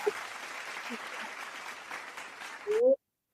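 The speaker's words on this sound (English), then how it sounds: "That's a round of applause for Never Unpack." A round of applause on a travel-business talk show, a steady wash of clapping from a small group at moderate level that swells briefly at the end before cutting off abruptly.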